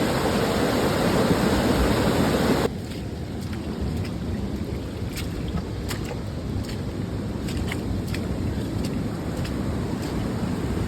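A flooded creek surges over culverts during a heavy rainstorm, a steady broadband roar of rushing water with rain, loud at first then settling to a slightly quieter continuous wash, with no talking.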